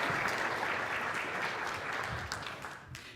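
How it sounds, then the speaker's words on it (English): A church audience gives a round of applause, a dense, sustained wash of clapping from a large crowd that gradually tapers off. "give her a round of applause"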